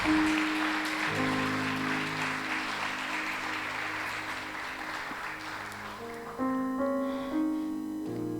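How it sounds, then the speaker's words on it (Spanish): A church congregation claps steadily, fairly loud at first and gradually thinning, while sustained keyboard chords play underneath and grow more prominent toward the end. "Si quieres darle un aplauso a Él"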